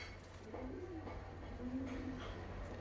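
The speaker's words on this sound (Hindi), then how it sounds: "कलपरा कबूतर है, पेवर कलपरा कबूतर जिसे कहते हैं कलपरा कबूतर" Kalpara pigeons, a purebred breed, give soft low coos in short repeated phrases against a steady background hum, fairly close and moderate in level.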